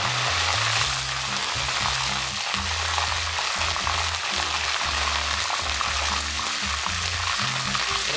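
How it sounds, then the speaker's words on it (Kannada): Curry leaves frying in hot oil for chilli chicken, a loud close crackling sizzle that runs the whole time, with a low thudding beat running beneath it. "ಫಸ್ಟಿಗೆ ನಾವು ಎಣ್ಣೆ ಕಾದ ನಂತರ ಕರಿಬೇವು"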